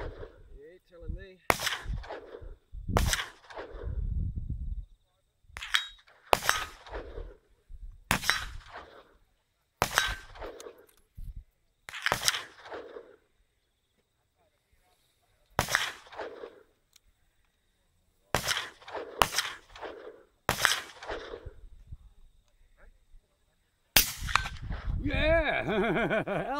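Rifle shots from a Browning X-Bolt in .270 at a 100-meter range, a series of about a dozen sharp, loud cracks spaced irregularly with short decays, some voices talking between them.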